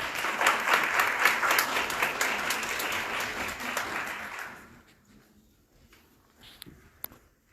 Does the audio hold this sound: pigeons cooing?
no